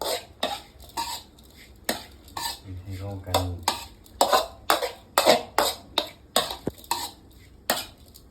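Duck larb ingredients stirred together in a bowl or pan, with a steady series of sharp utensil clacks and scrapes in an uneven rhythm, close and fairly loud, with no talk over them.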